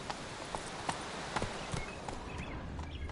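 Roach, the horse in The Witcher 3, trots with an even clip-clop of hooves at a steady rhythm over a low ambient bed, moderately close and without speech.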